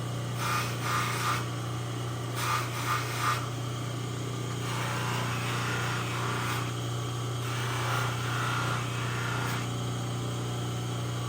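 A sharpened surgical instrument gets a final polish at an instrument workshop: close, repeated rubbing and grinding strokes come in short bursts over a constant mechanical hum, with no talk.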